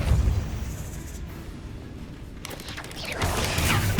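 The Depulso spell is cast in Hogwarts Legacy, with rushing, crackling bursts of magical force. One loud surge comes at the start, the sound eases, then a second forceful blast hits near the end.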